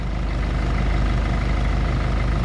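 Mitsubishi Pajero engine idling steadily just after starting, a constant low rumble that stays loud and even throughout with no voices.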